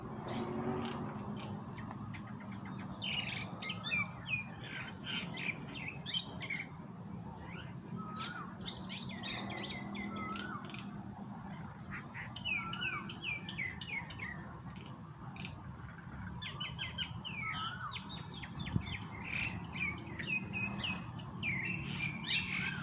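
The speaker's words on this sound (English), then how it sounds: "there's 3 of those little birds" Several small birds chirp and twitter outdoors, with quick bursts of high tweets repeating through the whole stretch over a soft background hum, moderately close and clear.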